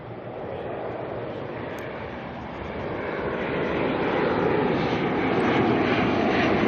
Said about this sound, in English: Another ATR coming in out of Nelson.